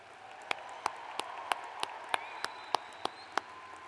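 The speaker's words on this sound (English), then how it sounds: "round of applause for these employees to thank them for their contribution" Sparse clapping at a spring university commencement ceremony honoring employees: about ten sharp, evenly spaced claps, quiet and isolated against a low hum, with no talking.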